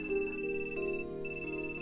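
A melodic phone ringtone chimes in the visual novel game Wagamama High Spec, a series of sustained electronic tones playing clearly alone at moderate volume.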